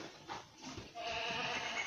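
A goat bleats at a goat farming exhibition held at the Krishi Vigyan Kendra in Sri Ganganagar, one drawn-out, wavering call rising over faint background noise at moderate distance.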